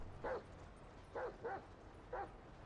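Chop the dog in GTA 5 gives four short, quiet barks, a single one then a quick pair and another, faint over a low game background.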